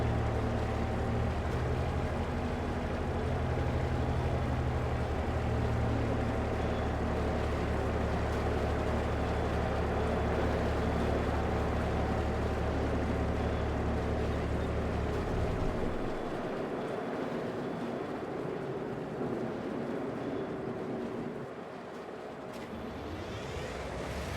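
A train engine in Farming Simulator 25 drones at a low, steady idle with a deep hum, then the low tone drops away about two-thirds through as the sound shifts, loud and alone.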